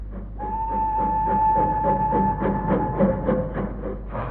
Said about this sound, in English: We took the 3:35 train to Thrippling Parva